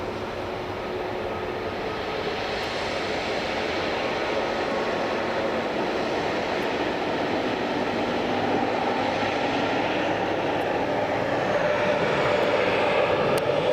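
A continuous airliner jet engine roar at Edinburgh Airport holds steady throughout, broad and rushing, gradually swelling slightly louder toward the end, with no voices.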